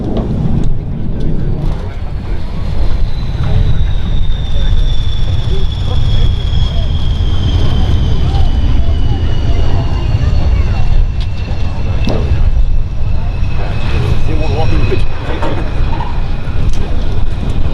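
Military jet aircraft landing at the 2017 Wings Over Wayne air show, a loud, steady engine roar with a faint whine gliding downward across the pass, heard continuously over broad wind-buffeted rumble.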